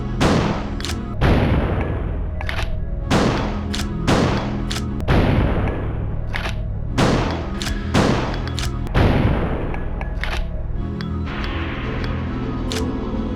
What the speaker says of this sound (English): Now let's go ahead and give the old test fire.